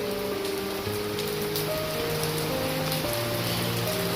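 Light rain falls steadily on outdoor surfaces in a Thai-Lao riverside setting, a constant soft patter with scattered droplets, under a faint tonal hum and no talking.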